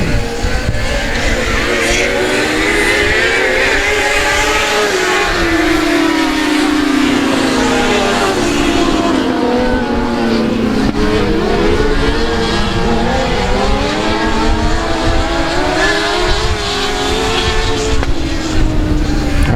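Race cars lap a dirt track at the South Texas Nationals, engines roaring loud and close, with rising and falling pitch as they pass. Tyres squeal and skid through the turns, and an announcer talks over the noise.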